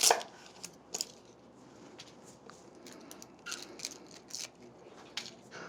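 Knife mincing shallots on a cutting board, a series of sharp, close, irregular chopping taps over a quiet background, with a few stronger knocks.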